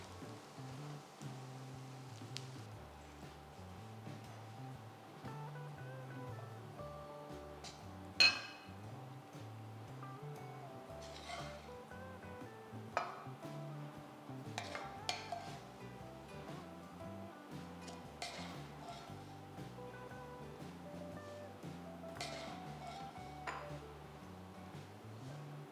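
Cooked mushroom rice is spooned from a pan into a serving bowl with scattered light clinks and scrapes, a sharper knock now and then, over a faint steady musical background and no talk.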